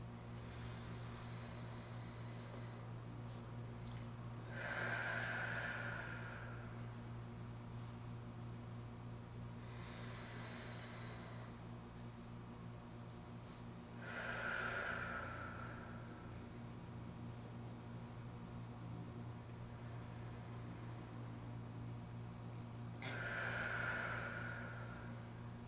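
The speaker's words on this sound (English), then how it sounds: "I'm going to have you take 3 deep breaths" Three slow, deep breaths spaced several seconds apart, each a soft airy inhale-exhale swell, heard close against a steady low hum in a quiet room.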